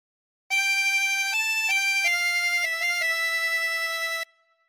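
Harmonica playing an opening phrase: a single sustained reedy melody of several notes blown and drawn in smooth succession, close and clear, with no talk.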